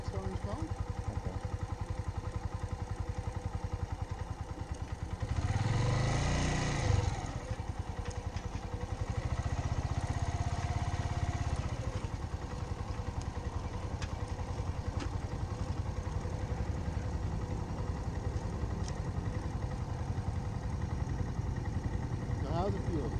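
A motorcycle on a first riding lesson runs at low speed, its engine note swelling briefly as throttle is applied, then settling back to a steady putter with some clatter, heard through continuous wind-buffeted recording.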